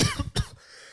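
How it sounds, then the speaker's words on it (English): Two sharp, close coughs in quick succession from a man on a radio fishing show, followed by a brief fading rasp. "while I have a coughing fit on air"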